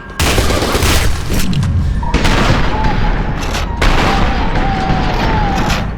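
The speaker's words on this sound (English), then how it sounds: "Shot sound effects itself is understated, but as part of the whole audio-visual mix, it's menacing." Heavy shotgun blasts in a first-person shooter game, loud booming shots at irregular intervals, each followed by a short ringing tail, with game sounds in between.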